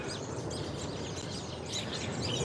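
Birds chirp faintly in a Washington DC garden, scattered high tweets over a steady outdoor wash of background noise.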